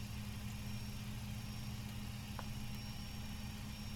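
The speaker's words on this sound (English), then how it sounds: "Turn the engine sound up a bit." Aircraft engine idling in the X-Plane 11 flight simulator game, a faint, steady low droning hum with a constant tone and no variation.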